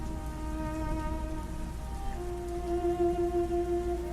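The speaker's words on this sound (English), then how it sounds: "Wild rain bursts" Steady rain patters on surfaces nearby, a dense even hiss with a low rumble beneath and a faint tonal hum running through.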